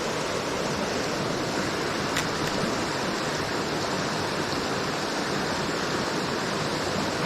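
A waterfall in Upper Michigan rushes with a loud, constant broadband roar, close by and unbroken, with no voices over it.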